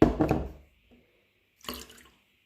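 Water poured between cups in short bursts, a close splashing pour followed by a pause and a second brief trickle, with a faint knock between.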